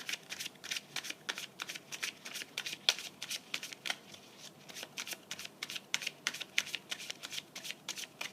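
Tarot cards being shuffled in quick, crisp riffles, a steady run of papery flutters and taps lasting several seconds with no voice over them.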